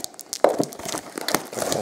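Foil wrapper of a 2019-20 Panini Chronicles Basketball card pack being cut open up close, a brief run of crinkling and tearing with a sharp snip near the start.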